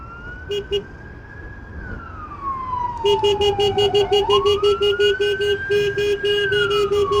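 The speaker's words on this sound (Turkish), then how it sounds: "Gençler önünüzden ambulans geliyor ya" A loud ambulance siren wails close by on the road, sliding up and down in pitch, then a rapid pulsing chirp joins in, steady.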